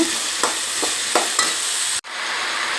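Cut, peeled potato pieces are stirred in a pan for a potato palya, with a few soft scraping strokes of the spoon over a light sizzle, then a brief abrupt cut before the frying hiss resumes, no talking.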